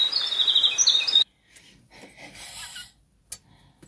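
A bright, chirping bird song for about a second, close and fairly clear, then stopping, leaving quiet room noise and faint rustles.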